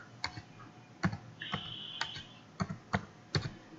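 A phone number is typed on a computer keyboard in a quiet room, sounding as a series of soft, irregular key clicks with short gaps between them and no voices.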